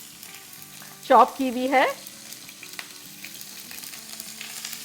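Green chillies for aloo sabzi hit hot oil with a loud burst of sizzling that settles into a steady fry, while a voice speaks briefly over it near the start.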